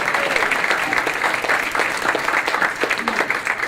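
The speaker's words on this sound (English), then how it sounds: "please give her a round of applause" Steady applause from a crowd at a comedy roast fills the whole stretch, loud and continuous with dense clapping throughout.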